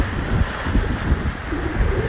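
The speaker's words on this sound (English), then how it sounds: "Beautiful wave." Ocean waves break along the Key West shore, a close, continuous rushing surf mixed with gusty wind noise on the microphone, with no voices.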